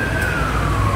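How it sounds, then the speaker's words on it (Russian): An ambulance siren sounds on a street in Istanbul, a steady, loud wailing tone holding over a constant rumble of traffic, with no voices heard. "Быстренько в стороночку встать и пропустить скорую"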